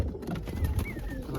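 Pigeons perched atop a rooftop setup give soft, low coos close by against a quiet background murmur.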